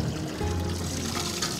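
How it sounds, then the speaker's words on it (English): Spring water pours and trickles steadily at St. Anne's Well in Buxton, a close, continuous splashing flow with no voices. "Here are the waters of Buxton, and it says, a well of living waters."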